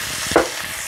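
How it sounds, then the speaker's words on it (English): Onions, tomatoes and red pepper go into hot chicken grease with one brief sizzling splash and stir over a steady background hiss of frying. "Add the onions in there. And right with that, we're going to add in the tomatoes and red pepper."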